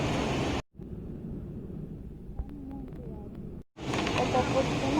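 Steady low roar of an airplane cabin while climbing over the sea, broadband engine and air rush filling the clip, broken by a brief near-silent dropout, with faint tonal chimes in the middle.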